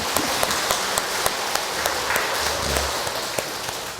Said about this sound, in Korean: 우리 서로를 위해 박수를 한번 쳐야 됩니다